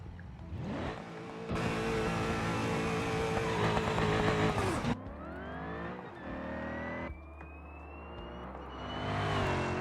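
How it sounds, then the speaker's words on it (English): In a video game, a race car engine screams at high revs with a whining, rising transmission tone that shifts pitch through gear changes, loud and continuous with no talking. "That's the transmission, by the way, that you hear her screaming."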